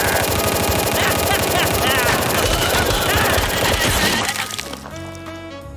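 Rapid gunfire sound effects in an animated show, a dense loud burst of shots with a crashing, shattering quality that cuts off and leaves music playing.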